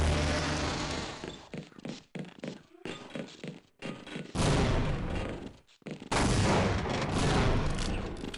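Gunshots and explosive blasts in Half-Life, a speedrun with grenades and shots fired at a security guard, coming in sharp loud bursts broken by brief silences, then heavier sustained blasts.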